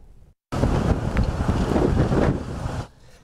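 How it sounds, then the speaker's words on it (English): Strong storm winds from a line of storms roar into the microphone as palm trees take a pounding, a loud, continuous gusting rush that cuts in abruptly and then drops away. "palm trees taking a pounding from those strong winds associated with the line of storms that hit our area"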